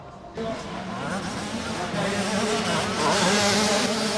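Motocross bikes race around a dirt track, a loud, growing buzz of several engines revving and passing close by, with someone talking over the noise at first.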